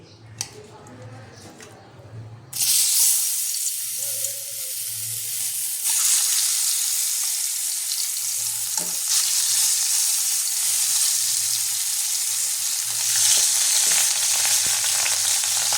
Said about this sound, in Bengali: মাছগুলো আমি লাল করে ভেজে নেব।